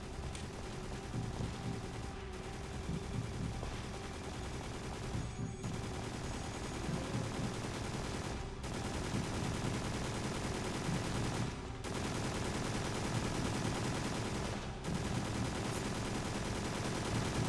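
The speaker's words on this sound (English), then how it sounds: "The sentry guns are on now." Sentry guns fire without letup in the video game Extermination, a steady, dense rattle of rapid automatic shots kept up the whole way through, with short gaps every few seconds.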